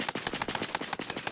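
Rapid automatic gunfire in the video game Warzone, a fast steady burst of evenly spaced shots, fairly quiet and heard on its own without talk.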